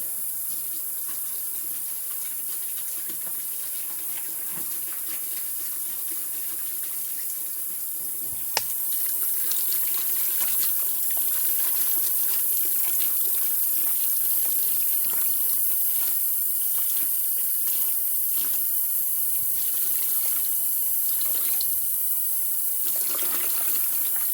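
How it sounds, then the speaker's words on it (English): Tap water runs steadily into a kitchen sink to make soapy water with dish washing liquid, a continuous close splashing stream that grows a little louder partway through and carries on alone without talk. "I'm just going to make some soapy water for you guys, just to show you."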